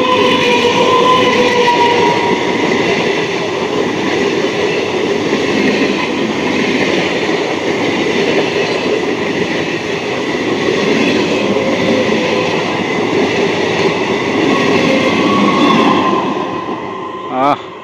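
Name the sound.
two trains crossing on Howrah–Katwa line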